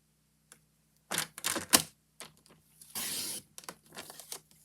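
Scissors cut a sheet of paper in half for a scrapbook page, heard as a few close, sharp snips and crisp rustles separated by silence, with a brief papery tearing swish near the end.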